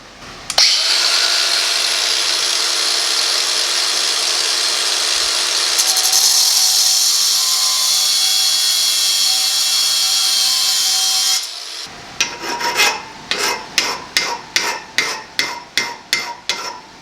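A power tool cuts through a 2 3/4 inch lawn mower bolt, giving a steady, loud high-pitched grinding whine for about eleven seconds, then a series of short rhythmic rasping strokes.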